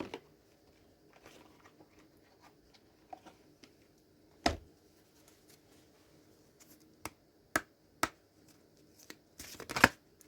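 Cards from an angel guide oracle deck are handled and one is drawn, giving soft rustles and several crisp, sharp card snaps at uneven intervals in a quiet room.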